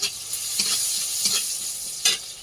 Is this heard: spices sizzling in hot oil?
yes